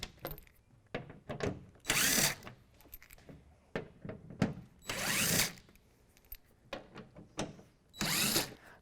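An impact driver removes plastic-anchored bed liner screws in a 2016 Toyota Tacoma bed, with three loud rattling bursts between softer clicks and handling knocks, close up and without voices.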